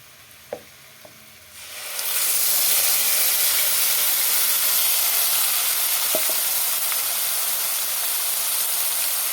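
Ground spice paste from a mixer is dropped into hot oil for a fish dish with ridge gourd and potato. A few soft clicks come first, then a sudden loud sizzle bursts out and holds steady, close and continuous to the end.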